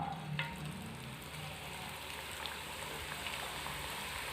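Drumstick-leaf pakoda batter fries in hot oil over a medium flame, a steady close hiss of sizzling with faint crackles and pops, with no talk over it.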